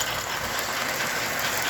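NYC Mohawk 4-8-2 model train locomotive pulling eleven passenger cars runs smoothly nearby, a steady loud mechanical whir and rapid clattering of gears and wheels with a faint high whine over it.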